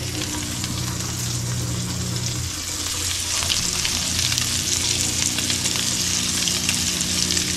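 Crappie fillets fry in melted butter in a cast iron skillet, a dense, continuous sizzle and crackle close up that swells a little louder midway, with a low steady hum beneath and no talking.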